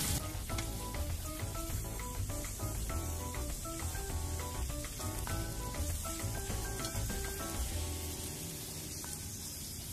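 Green chilies dropped into hot coconut oil with green masala, a loud, dense crackling sizzle with rapid spitting pops that runs continuously and close up, easing slightly toward the end.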